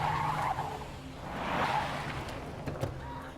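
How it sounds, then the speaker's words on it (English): A truck's tires squeal and skid as it tears out of a parking lot in a film scene, a swelling screech over a rumbling engine, with no speech. "Truck comes skidding out of the parking lot."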